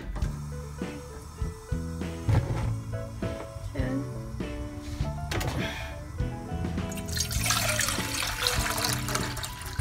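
Water rushes into a cooking pot for boiling tapioca pearls, a brief hissing pour toward the end that sits under steady background music.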